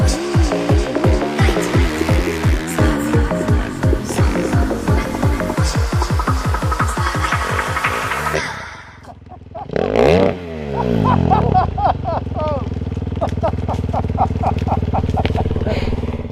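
A motocross bike on a steep hill climb revs hard in rapid rising and falling bursts, drops off briefly, then surges again into sustained high revving, loud and near.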